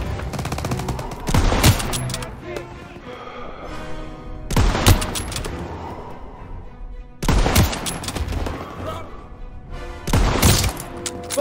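Battle gunfire in Call of Duty WW2, with repeated bursts of rapid shots and heavy blasts arriving in loud clusters every few seconds over a continuous rumbling din.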